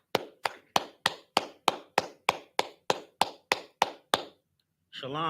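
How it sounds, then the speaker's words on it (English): A group claps in unison at a religious teaching class, fourteen sharp, evenly spaced beats close and loud, followed by a pause and then a voice starting to speak. "All right, let's clap it up."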